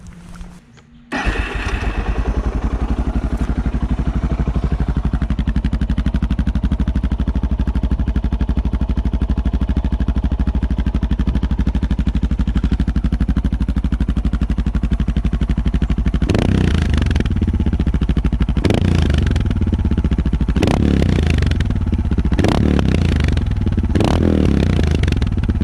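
A Suzuki DR650 motorcycle with an FMF full exhaust starts up, settles into a loud, steady lumpy single-cylinder idle, then is blipped through a series of sharp, throaty revs close by.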